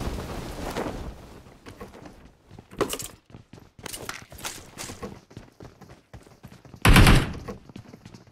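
Close-range gunfight in BGMI, with sharp rifle shots and short automatic bursts spaced irregularly, footsteps scuffing between them and one loud heavy burst near the end.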